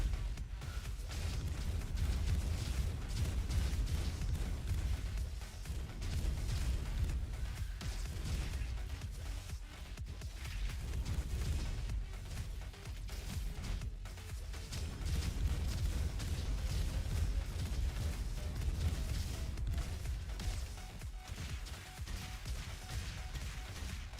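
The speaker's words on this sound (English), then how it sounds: "And the explosion's around you, not around your decoy." Dense, continuous barrage of explosions and crashing blasts from the Roboquest video game, with loud booms piling over one another throughout, heavy in the low end and nearly without pause.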